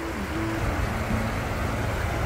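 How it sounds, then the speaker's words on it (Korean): Water in a winter stream in Tancheon, Seongnam, rushes loudly and continuously close by, a steady broadband wash with no pauses. "여기 물이 엄청 많이 내려와요"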